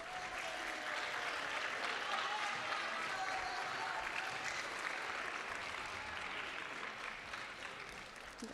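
A school awards audience applauds students recognized at a middle school honors ceremony, giving a dense, sustained wash of clapping from many hands that holds steady for several seconds, with faint crowd murmur underneath.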